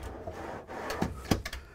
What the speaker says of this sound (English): all these drawers are, you got to push them to unlock them.